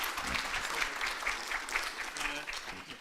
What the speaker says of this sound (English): And a round of applause for